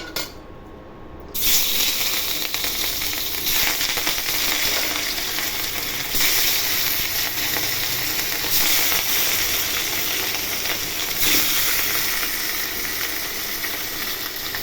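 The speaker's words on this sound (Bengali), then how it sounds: "তেল গরম হয়ে গেছে, এখন মাছগুলো ভেজে নিব" Katla fish frying in hot oil, a loud steady sizzle that breaks in abruptly after a short quiet start and holds dense and close throughout, with no talking.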